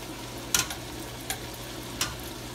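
Bake dough fries in hot oil for breakfast, a steady low sizzle and bubbling with a few sharp spatters and pops standing out.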